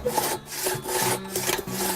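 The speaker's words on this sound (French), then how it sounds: "On scie au Godin d'or." A two-man crosscut saw bites through a wooden log in steady back-and-forth strokes, each pass a rasping, rhythmic rub close up, with no voices over it.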